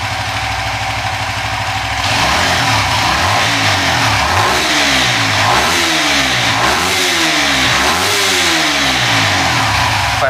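A Suzuki FU 150 FI motorcycle engine with a bore-up build is revved at middle RPM, rising from a steady idle into loud, repeated sweeping revs that climb and fall in close succession.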